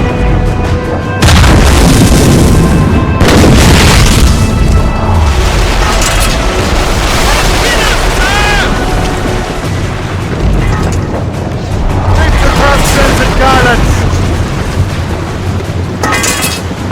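Ship cannons in Assassin's Creed Rogue fire in repeated loud, booming volleys over a dense, sustained roar of battle, the blasts crowding together across the whole stretch.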